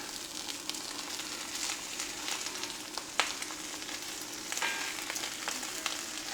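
Omelette sizzling steadily in a frying pan, a continuous close frying hiss with a few faint clicks of a spatula, no voices.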